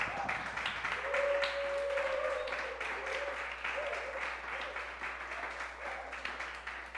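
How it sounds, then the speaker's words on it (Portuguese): A church congregation applauds steadily for several seconds, a dense wash of distant clapping with a faint sustained tone over it early on. "Eu gostaria de pedir uma salva de palmas ao Senhor."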